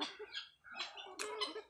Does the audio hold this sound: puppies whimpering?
no